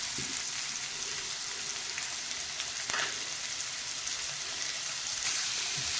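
Onion and capsicum frying in a pan give a steady, soft sizzle throughout, with faint stirring clicks and no talking.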